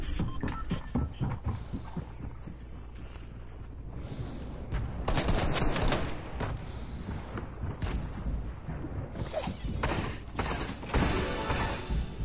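Gunfire in the video game Fortnite, with rapid bursts of shots and repeated sharp cracks spread through the stretch, some clustered fire and short pauses, with no talk over it.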